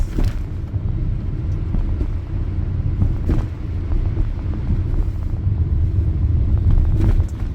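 A car with a manual transmission being driven, its engine held around 3,000 RPM through a shift into second gear, giving a steady loud low rumble with wind noise and no talking.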